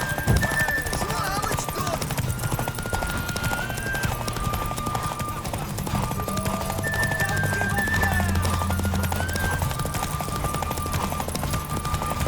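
Steady galloping hoofbeats drum continuously under a busy, noisy backdrop with occasional whinnies and faint voices, from the video game The Witcher 3: Wild Hunt.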